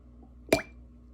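A single short wet plop as a TWSBI Iris Vac 700R fountain pen's plunger, nib unit removed, draws up water, in an otherwise quiet setting.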